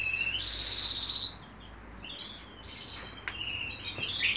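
Pet birds kept indoors chirp and tweet in high, thin bursts, a steady trill running under scattered sharper calls, close by and moderately loud, with no one talking.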